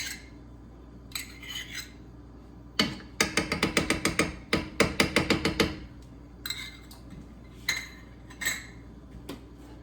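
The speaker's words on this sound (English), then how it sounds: "I'm just gonna get that all good and stirred up." Pesto is stirred into a creamy sauce in a pan, with a spoon clinking and tapping rhythmically against the metal in rapid bursts separated by short pauses.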